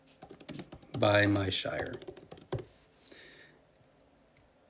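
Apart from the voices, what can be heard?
typing a search on a computer keyboard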